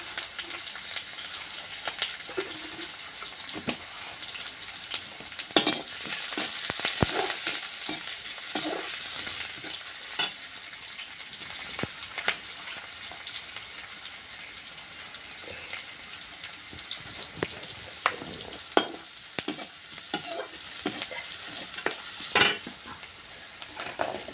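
Whole cumin seeds and green chillies crackle and sizzle in hot frying oil, a bright steady hiss broken by sharp pops and spatters, with occasional stirring clatter and no talk.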